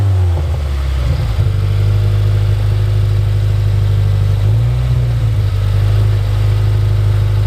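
Subaru WRX fitted with an Invidia Gemini R400 exhaust, rumbling steadily and loud at close range with a deep low drone throughout and a brief rise in revs partway through.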